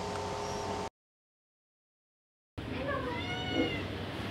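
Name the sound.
cat crying after neutering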